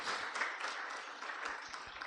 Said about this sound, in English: we give you a big, big round of applause